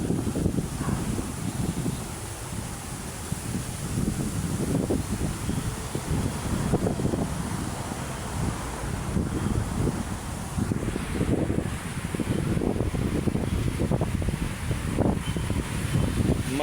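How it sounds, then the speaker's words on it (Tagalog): Strong wind at Manila Bay buffets the microphone continuously, a loud low roar with gusty surges throughout and no other clear sounds. "Lakas ng hangin, no?"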